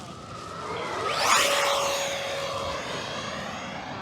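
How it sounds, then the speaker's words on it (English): An FMS Yak 130 radio-controlled jet with a 70mm electric ducted fan flies past, its steady whining roar swelling to a loud peak as it passes close, then easing to a sustained hum with a falling pitch. "Guys, this plane is really fun to fly."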